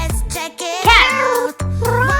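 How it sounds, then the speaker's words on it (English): A cat meows close and clear, giving a drawn-out, wavering meow in a couple of voiced bursts with short gaps, alone and without background noise. "Cat."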